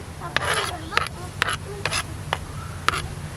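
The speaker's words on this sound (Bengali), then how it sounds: "অল্প অল্প করে বেটে নিচ্ছি।" Cooked kharkol leaves being ground into paste a little at a time, giving a series of rhythmic rasping, rubbing strokes at close range over a low steady background hum.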